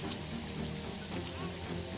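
Steady, dense rain patters continuously in the video game Jagged Alliance 3, a close, even wash of falling drops with no pauses.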